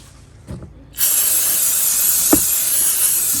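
A few faint knocks, then an aerosol can of carburetor cleaner starts spraying over a Cub Cadet RT 65 tiller's parts with a steady loud hiss that continues unbroken to the end.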